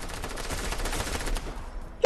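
Rapid gunfire from a weapon fired from the hip in Fortnite: a quick burst of evenly spaced shots at moderate volume over about two seconds, ending in a short sharp sound.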